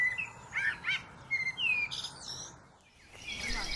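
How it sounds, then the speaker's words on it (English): Birds chirp and tweet in short, bright bursts, several distinct calls in quick succession, clear and fairly close against a quiet background. "We can say that birds sing when they are making a musical sound. The words tweet, twitter,"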